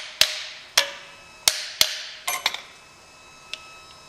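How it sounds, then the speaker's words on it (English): A hammer strikes the drive shaft yoke of a worn-out 442 four times in a steady rhythm, with sharp metallic clanks up close, then a short cluster of lighter taps and one final faint hit, with no talking. "Take your hammer, strike the yoke."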